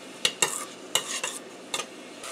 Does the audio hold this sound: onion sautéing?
yes